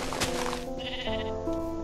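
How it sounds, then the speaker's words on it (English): Sheep in Minecraft bleat several times in quick succession, with loud, close, wavering game bleats overlapping one another against a steady background. "God, there's so many sheep."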